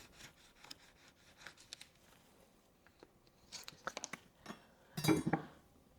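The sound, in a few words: knife slicing cherry tomatoes between deli lids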